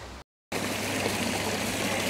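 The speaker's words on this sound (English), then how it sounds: "Lots of water features for sale here." Water features on sale at a large garden centre in Burford, England, give off a continuous splashing trickle, close and steady, broken only by a brief moment of silence at the start.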